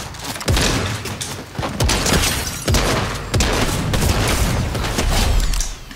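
Rapid gunfire and repeated booming shots from a Fortnite match ring out in dense, loud bursts throughout, with brief gaps between volleys and no talking.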